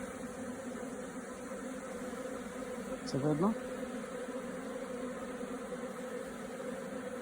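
A steady, dense buzz of many bees hums close by throughout, with one brief louder swell and a short spoken question over it.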